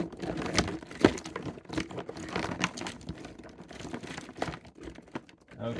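Packaged wrestling action figures in plastic blister packs and cardboard are shuffled by hand, giving irregular crinkling, tapping and rustling bursts at close range.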